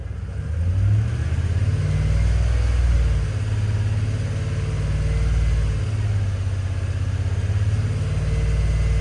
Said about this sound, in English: Right, let's go for 2000 RPM.